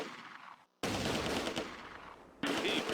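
Heavy gunfire in a Close Combat firefight, with a rapid, dense stream of shots. A brief gap near the start separates two loud bursts, and no voices are heard.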